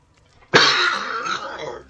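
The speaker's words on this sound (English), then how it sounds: "Cough just hasn't gone away" A single sharp, close cough bursts out after half a second of near quiet, trailing off into a raspy, throaty exhale.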